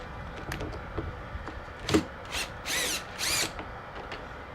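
Power drill backing screws out of an RV door latch, several short whirring bursts of varying pitch, the last two longer, recorded close with faint wind noise between them.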